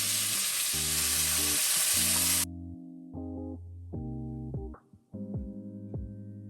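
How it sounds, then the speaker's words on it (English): Onions, tomato, pepper, garlic and scallion hit hot oil with a loud, dense sizzle that cuts off abruptly after a couple of seconds, leaving quiet background with steady tones. "be mindful the oil is going to splatter everywhere. So I'm going to add my onions, my tomato, my pepper, garlic, and scallion."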